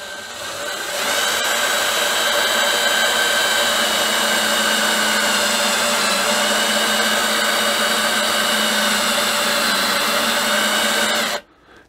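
An Oktober Design BenchMK can seamer spinning and seaming a can of home brew, a loud, steady motor whine with a constant tone that runs unbroken for about ten seconds, then stops abruptly.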